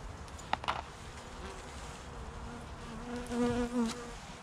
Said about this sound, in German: Die kommen ja gar nicht runter zu den Bienen.